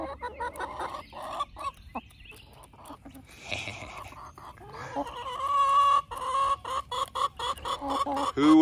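Chickens cluck close by in short, repeated bursts, with busier overlapping clucks and squawks building toward the end and some faint rustling between calls.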